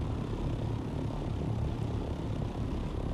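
A helicopter flies in the video game Dune: Awakening, a steady, even rotor-and-engine drone heard from on board, moderately loud and unbroken.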